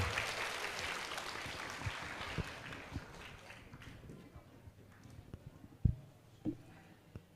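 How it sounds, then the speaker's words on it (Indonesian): An audience at a public lecture in Depok gives hearty applause that starts full and fades away within a few seconds, followed by scattered thuds and footsteps in a quieter room. "Beri tepuk tangan yang meriah."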